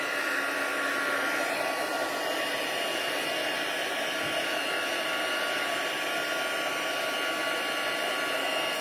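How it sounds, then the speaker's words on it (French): A heat gun blows hot air over embossing powder on vellum, a continuous loud whooshing roar with a steady motor whine that holds unchanged throughout, close and alone with no talking. "Quand le fer chauffant, le pistolet chauffant, il est chaud, là, c'est pas long."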